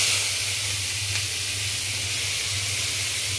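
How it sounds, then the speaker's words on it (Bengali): Onions and chillies sizzle in hot oil in a wok, a loud, steady hiss that holds evenly throughout with a low hum beneath it. "এখন আমি এই যে এতগুলো পেঁয়াজ আর মরিচ আমি এই কড়াইতে দিয়ে দিব"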